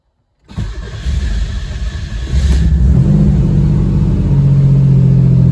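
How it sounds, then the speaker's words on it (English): A Chevrolet Cavalier Z24 engine cold-starts after brief silence and catches abruptly. It settles into a loud, rough, close idle that steps up to a higher, steadier drone partway through. "So I'm going to do a cold start here."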